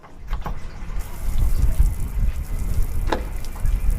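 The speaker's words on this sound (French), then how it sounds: "Je reconnais le bruit d'une douche" Beach shower at La Grande Motte running steadily, a broad continuous wash of falling water close by with a few brief clinks and knocks.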